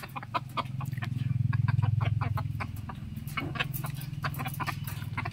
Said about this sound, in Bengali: একটা মুরগি আর 3টা মুরগা।